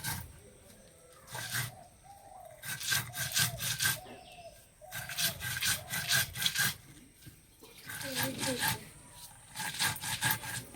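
Coconut and sugar are ground by hand on a stone for ripe mango naru, giving close, rhythmic rasping strokes in repeated bursts with short pauses between them.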